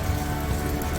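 Steady rain falling at a boat haul-out yard in Grenada, a dense continuous patter on surfaces, close and fairly loud, with no voices.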